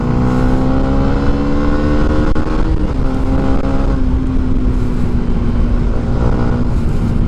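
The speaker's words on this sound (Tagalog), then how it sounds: "yung tunog pa lang ng makina niya is very aggressive talaga" A 2021 Yamaha Sniper 155 motorcycle engine revs loudly and steadily up close, holding a strong, continuous drone with slight pitch shifts and no talking over it.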